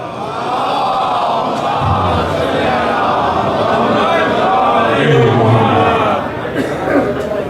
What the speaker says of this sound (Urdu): ایک بار بلند آواز میں نعرے سلوات